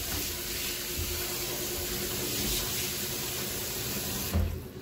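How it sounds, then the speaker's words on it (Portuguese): Sea bass roe is rinsed under a running kitchen tap, a steady close hiss of water splashing into a sink for several seconds, ending with a brief louder splash and no talking. "estar aqui a lavá-las, pulas aqui um pouco na água."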